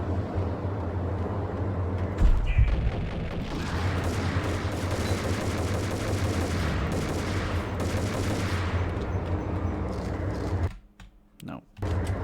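Steady gunfire from a Max Payne shootout runs for about ten seconds at moderate loudness, a continuous crackling barrage with one sharper bang near the start before it cuts out into near quiet.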